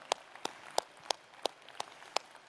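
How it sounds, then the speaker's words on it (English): Sparse, evenly spaced claps from an audience at the Xiaomi 13 launch event ring out about seven times in quick rhythm, fairly faint, with no talking. "you should be clapping if you're a gamer."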